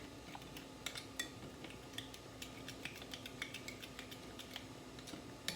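A spoon stirs melted chocolate chips in a bowl, making faint, irregular clinks and scrapes against the dish in a quiet room.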